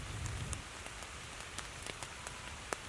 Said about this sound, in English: Woken up to heavy rain this morning